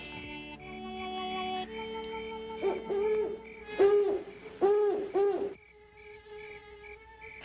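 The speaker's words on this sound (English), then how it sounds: "That's only an old owl." An old owl hoots in the night, four or five clear repeated hoots over a steady background of chirping insects.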